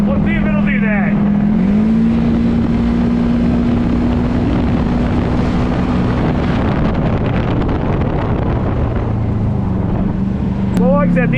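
A Honda Pilot FL400r off-road buggy engine revs hard toward redline, a loud steady drone that climbs in pitch and holds high, with wind buffeting the microphone throughout.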